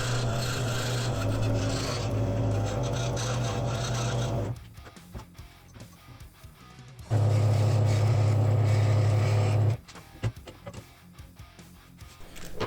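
A scroll saw cuts letters from maple and walnut wood, a close, steady buzzing rasp in two long bursts separated by a quieter gap of small clicks and handling sounds.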